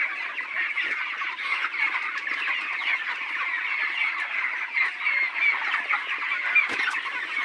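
A dense chorus of many chickens clucking and murmuring together in a poultry farm, a continuous busy flock sound with no talking, fairly close and steady throughout.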